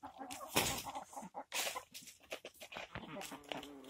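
A rooster clucks close by in a farmyard, with short irregular calls mixed with a person talking throughout.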